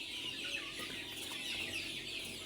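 Chickens, a mix of native and Rhode Island birds on a dairy farm, cluck softly and continuously at moderate distance, several overlapping calls with no talk.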